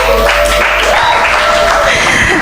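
An audience applauds a live poetry performance at the Pa Gya 2020 event across Africa, loud steady clapping from a crowd throughout.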